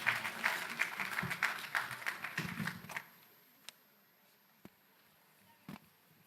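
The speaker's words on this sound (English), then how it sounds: "A big round of applause, my friends." An audience at a law and peace symposium inauguration applauds the chief guest, a moderately loud burst of clapping for about three seconds that dies away, leaving a few isolated knocks and faint room noise.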